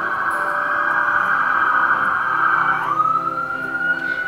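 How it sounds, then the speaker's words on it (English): Emergency vehicle siren wailing nearby, a loud continuous tone that sweeps slowly and then rises again, with no talk over it. "Those sirens are very close."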